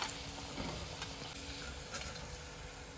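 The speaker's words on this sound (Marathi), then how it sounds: "वेज लॉलीपॉप तळून तयार झालेला आहे" Veg lollipops coated in breadcrumbs deep frying in hot oil, a steady close sizzle and bubbling hiss with faint stirring, no talk.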